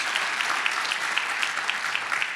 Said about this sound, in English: Give them a big round of applause and congratulations.